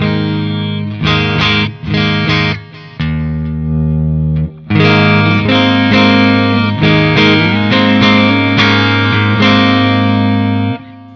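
Electric guitar through a Synergy Syn20IR amplifier with a clean tone despite high gain: a few short stabbed chords, then sustained ringing chords and notes, loud and close.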